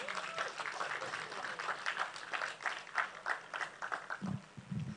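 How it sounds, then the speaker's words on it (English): A conference audience applauds a panelist at a creative-industry business panel, steady moderate clapping from a crowd that sounds somewhat distant, with a brief low murmur near the end. "A round of applause for her,"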